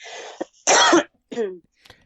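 Someone coughs sharply, then clears their throat with a rough, rasping burst, followed by a short hoarse grunt and a small cough, all close and isolated.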